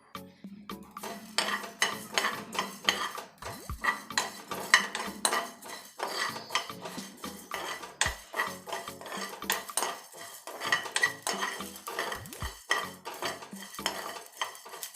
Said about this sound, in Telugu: ఒక కప్ ధనియాలు వేసుకొని వేయించుకోవాలి